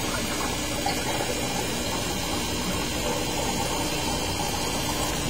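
A submersible pump drawing water out of an overhead sump chamber during cleaning, producing a steady, loud gushing and churning of water up close that never lets up.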